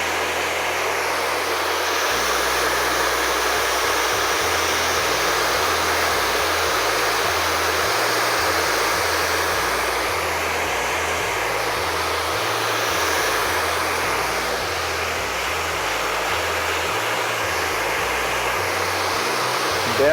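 Hair dryer blowing hair dry while a brush works through it, a steady close rushing hiss that runs unbroken throughout, with soft music underneath.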